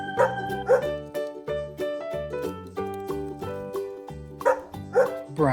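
A toy farm-animal sound, a brown dog figure from a sensory play set, gives out a repeated electronic bark; several sharp, close yips stand out over a steady musical tune.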